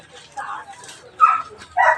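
Two dogs at a backyard farm bark in short sharp yips at close range, three quick bursts spaced about a second apart, with a man's speech mixed in.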